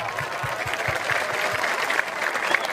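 Audience applause from a crowd at an Islamic sermon in West Java, dense clapping that holds steady for a few seconds, with faint chatter mixed into the clapping.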